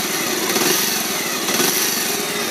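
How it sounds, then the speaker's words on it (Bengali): A used Bajaj Pulsar 150 motorcycle engine idles nearby in a steady, unbroken mechanical hum with a faint rapid beat, running alone without any voices. "এবার আপনাদেরকে ইঞ্জিন সাউন্ডটা একটু শুনিয়ে দেবো"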